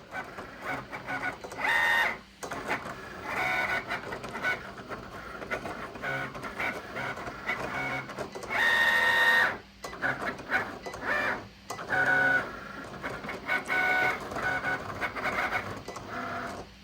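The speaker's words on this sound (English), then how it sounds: "the machine is making its cuts" A vinyl cutting machine moves through graphics for a 1-inch scale ATSF GP60M locomotive model with a continuous mechanical whir, and louder bursts of carriage motion recur throughout.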